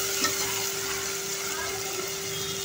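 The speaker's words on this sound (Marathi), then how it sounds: "छान असा टोमॅटो विरघळेपर्यंत फ्राय करून घ्यायचा आहे टोमॅटो ह्याच्यामध्ये" Tomatoes frying in a pan with browned onion, cooked down until soft for a dried bombil and potato curry; a steady, close sizzle with faint stirring runs throughout, alone and fairly loud.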